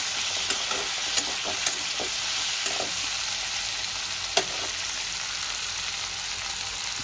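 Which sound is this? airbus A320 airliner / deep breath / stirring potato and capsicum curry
stirring potato and capsicum curry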